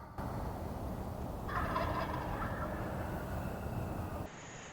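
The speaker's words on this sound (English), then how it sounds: "they started gobbling away" Wild turkeys gobble outdoors, a rolling gobble standing out for a couple of seconds over a steady background rumble, fairly distant.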